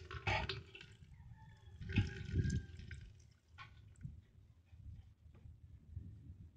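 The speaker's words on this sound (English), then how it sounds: "So we'll pour this water" Water is poured out of a container, leaving a worm behind, making splashing gushes and trickles in a few uneven bursts with dripping between, close and fairly quiet.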